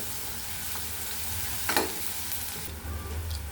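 Turmeric and red chili powder being stirred into a drumstick (moringa) pod curry in a pan, a quiet steady sizzle with one sharp scrape midway and brisker stirring toward the end, close and fairly faint, no voices.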